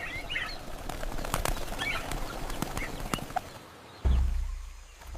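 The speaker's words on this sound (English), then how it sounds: "Birds of bright colors screeched in the treetops." Faint bird calls ring out now and then over a soft outdoor ambience, mixed with scattered thumps and a brief low flutter.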